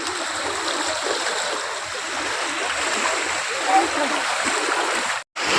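Strong floodwater current rushes steadily through a flooded area in Hooghly-Howrah, making a constant broad roaring wash that cuts off abruptly at the end.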